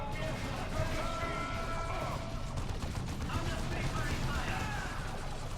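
Battle gunfire in the strategy game Dawn of War 2, dense and continuous crackling volleys at moderate level, mixed with game voice lines over a steady bed of combat noise.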